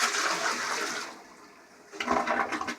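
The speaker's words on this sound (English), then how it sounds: "flushing with a single gallon of water is all about speed" A toilet flushes after a single gallon of water is poured quickly into the bowl, giving a loud rushing gush that fades, then a second burst of gurgling water as the bowl drains and settles.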